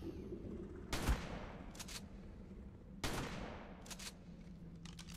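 A pump-action shotgun fires in the video game ARK, two sharp blasts about two seconds apart, each trailed by a short mechanical pump, heard alone over a low ambient hum.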